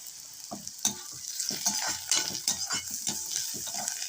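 Steady sizzling of tempering frying in a pan for Chettinad spicy kuzhi paniyaram, with stirring and occasional scrapes and clinks of a utensil against the pan, fairly close.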